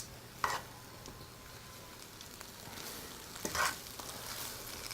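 Fresh coriander is stirred into a pumpkin beef and cashew curry in a pot, with two short, soft scraping bursts against a faint, steady background.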